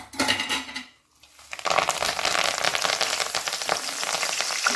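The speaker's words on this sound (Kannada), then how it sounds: "ಇವಾಗ ಕರಿಬೇವಿನ ಸೊಪ್ಪು ಹಾಕೋಣ." Curry leaves dropped into hot oil for a Kadlepuri ograne tempering burst into loud, steady crackling sizzle after a brief quiet gap, spattering continuously up close with no talking.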